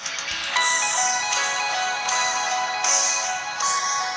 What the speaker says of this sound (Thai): ที่ได้ยินอยู่เนี่ย มาจากสมาร์ทวอทนะครับ